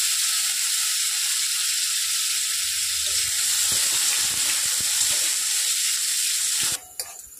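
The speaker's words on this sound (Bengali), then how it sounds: "জিরে এবং রসুন কুচি দিয়ে হালকা করে ভেজে নিতে হবে।" Whole cumin seeds and chopped garlic fry lightly in oil. The sizzle is a steady, close hiss with soft ticking from the pan, and it cuts off abruptly near the end.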